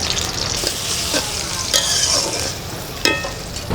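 Sliced onions and green chillies fry in hot oil in a pan, crackling close up with a continuous sizzle, broken by a few sharp scrapes and clatters of a spatula stirring.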